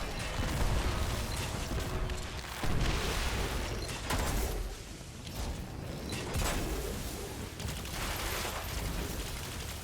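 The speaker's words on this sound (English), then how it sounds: "I'm going to toss a grenade here to get some damage off." Grenade blast and gunfire in Destiny 2 during a combat encounter, a dense, loud run of booms and rattling shots with several heavy impacts rising out of continuous battle noise.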